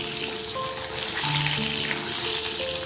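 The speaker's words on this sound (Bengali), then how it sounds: "আর এই যে আলু ফ্রাই হচ্ছে" Potatoes fry in a pan with a steady, close, even sizzle that holds for the whole stretch, with a faint hum behind it and no talk.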